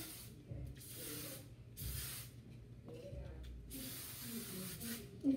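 Hairspray hisses from an aerosol can in several short bursts, pausing between each, close and fairly quiet.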